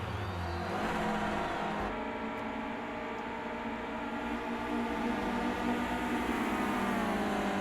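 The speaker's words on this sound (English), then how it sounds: "Back up the hill to Druids again." Renault Clio Cup race cars roar up the hill at Brands Hatch Indy circuit, a loud, continuous engine drone with shifting revs as the pack climbs toward Druids, with no talk over it.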